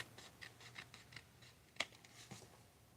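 Scissors trimming a paper envelope flap with quiet, repeated snips and rustling cuts, one sharper snip near the end, close and soft with no talking.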